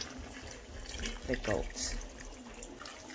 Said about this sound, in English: Now I'm going to add some hot water from my kettle